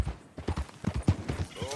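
Horse hooves clip-clop in a video game, a steady trotting rhythm under a man's speech, with music swelling near the end.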